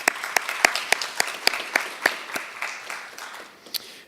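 Audience at a student organizing event for social change claps, loud, in a burst of separate sharp hand claps that thins out and fades toward the end.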